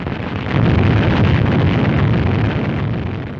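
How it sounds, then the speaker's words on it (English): A three-stage 72-foot rocket loses thrust just after launch and explodes, giving a sustained, dense, loud roar that swells early and rumbles on steadily with a heavy low-end wash for over three seconds. "After rising but a few feet, the three-stage 72-foot rocket loses its thrust."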